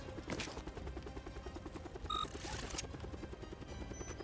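A helicopter in Call of Duty Black Ops Cold War Zombies thrums with a steady rapid rotor pulse throughout, mixed with bursts of gunfire and mechanical game effects at moderate loudness.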